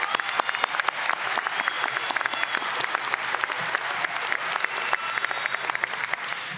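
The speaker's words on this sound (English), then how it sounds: "Please give them another round of applause." Graduation-ceremony audience applauding a high school vocal ensemble and band, a steady, even wash of many hands clapping at moderate volume with no talk over it.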